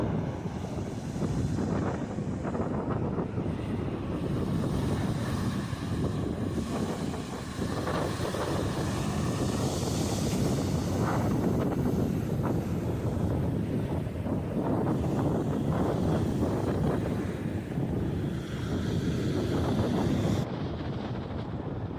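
Strong, steady wind roars and buffets the microphone at a rocky beach, a continuous loud rush with gusty swells and no voices.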